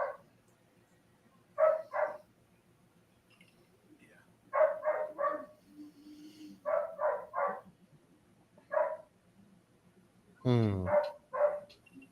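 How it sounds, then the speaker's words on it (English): A dog barks repeatedly in short clusters of two or three, moderately near, with quiet gaps between and a brief yelp-like whine near the end. "Sorry if you can hear the dog."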